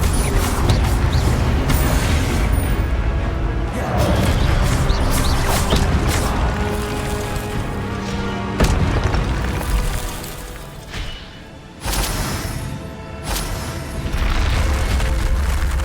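The Incendio fire spell in Hogwarts Legacy bursts in a loud, rumbling whoosh of flame with booming low rolls and crackle, continuing steadily before a brief dip and a fresh surge.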